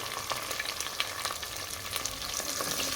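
Curry leaves fry with onions in a pan for tomato dal, giving a brief, steady close sizzle and crackle with light stirring and no one talking.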